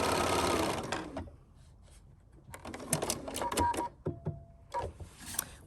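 A sewing machine stitches a quilt four-patch block in two separate bursts of rapid mechanical whirring, close and clear, with a short pause between them.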